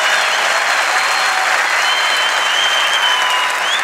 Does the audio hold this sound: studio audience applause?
yes